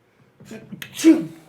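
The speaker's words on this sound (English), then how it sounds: "I got to sneeze." A single sneeze bursts out after a short breathy build-up, close and fairly loud.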